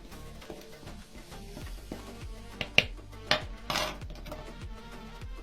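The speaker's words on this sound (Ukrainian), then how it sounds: "Перемішуємо." A spoon or whisk stirs sponge-roll batter of flour and baking powder in a bowl, with soft rhythmic scraping and a few sharp clinks against the bowl, close and quiet.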